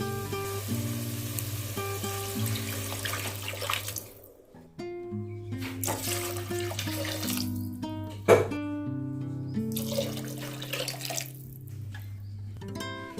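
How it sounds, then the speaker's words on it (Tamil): Three tumblers of water are poured into rice in a pressure cooker for drumstick biryani. Soft splashing pours come in bursts over quiet background music. "நான் வந்து ஒரு மூணு டம்ளர் தண்ணி ஊற்றுறேங்க"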